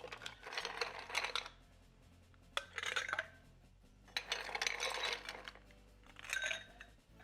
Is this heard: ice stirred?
yes